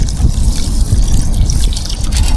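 Rinse water is poured out of a pot of rice being washed, giving a loud, close, continuous splashing trickle that lasts the whole moment. No voices are heard.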